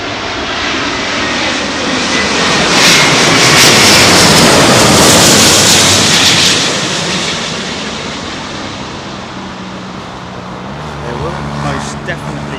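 A fixed-wing airliner roars in on its landing approach at London Heathrow Airport in blustery wind at sunset, a loud engine rumble swelling to a peak midway before easing off, with a faint voice speaking toward the end.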